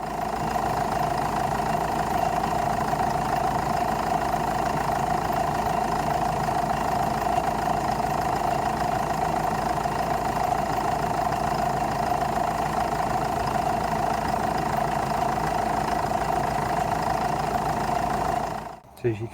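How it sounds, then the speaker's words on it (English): A Jeep engine idles continuously at a constant, moderately loud level, with a low rumble and a persistent mid-pitched hum, ending with a brief clunk. "So I'm going to start the engine up"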